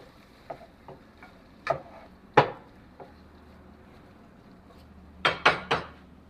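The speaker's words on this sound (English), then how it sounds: "I'm gonna stir it up." Pot stirring with carrots, tomatoes and scallions, heard as a handful of sharp utensil clinks and scrapes against the pot, scattered singly and then in a quick cluster of three near the end, close and moderately loud.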